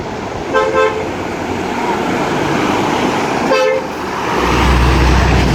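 An Epastar intercity bus bound for Palembang entering a bus terminal in Padang Panjang sounds its horn in two loud, close, separate toots, with engine rumble building toward the end.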